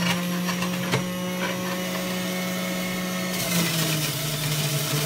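A countertop blender whirring steadily as it purees cucumber, lemon and kale leaves for a detox juice, a loud close motor hum that shifts to a harsher, busier churn near the end.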